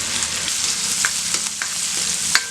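Crushed garlic and shallots fry in hot oil in a pan for a goat liver fry, giving a loud, steady sizzle broken by a few sharp stirring clicks, with no talk.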